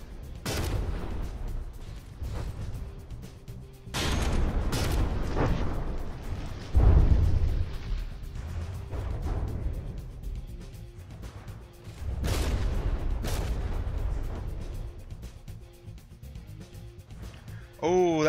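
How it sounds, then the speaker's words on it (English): Ship guns and artillery firing in the naval combat game From the Depths, repeated heavy booms and rumbling blasts at intervals, loud and sustained, with a voice commentating over the barrage. "We got some of those secondary guns firing. It's always good to see more shells in the air"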